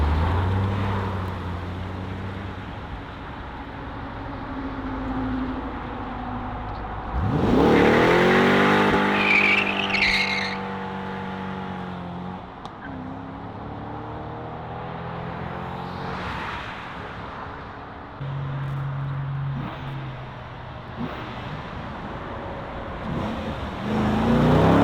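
A 2004 C5 Corvette on its stock exhaust makes drive-by passes, engine note swelling from a distant hum to a loud roaring sweep as it passes close by, then fading, with a second quieter pass later.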